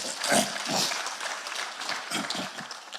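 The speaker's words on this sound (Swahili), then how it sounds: "Haki mpigieni governor wetu makofi" Scattered clapping rises from a gathered church crowd applauding the governor, uneven bursts of hands that swell and fade rather than settling into a steady roar.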